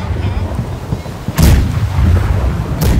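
Cannon broadside from the left side of a ship in the video game Operation Snowbouldge, booming loudly at about 1.4 s with a second blast near 2.8 s over steady low rumble.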